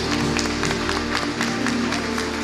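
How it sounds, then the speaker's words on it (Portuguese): A church congregation claps together during worship, a dense continuous round of applause over a sustained musical tone, with a faint voice beneath. "Aplauda o Senhor bem forte."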